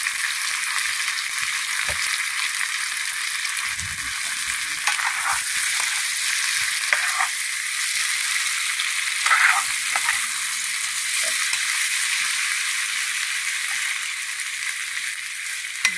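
Cowpeas fry with salt in a hot pan, giving a loud, steady sizzle while a spoon stirs and scrapes at intervals, close by with no talking.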